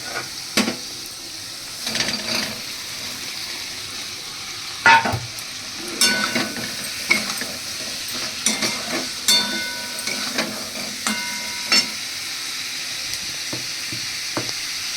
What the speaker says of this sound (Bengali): এবার আমি এর মধ্যে দিয়ে দিচ্ছি এই পটলগুলোকে।